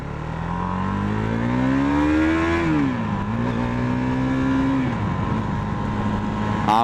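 A KTM 390 Duke single-cylinder motorcycle from 2017, still in its break-in period, revs up loud and close as the throttle is opened, pitch climbing steadily, dipping briefly at a shift, then rising again with no talk over it.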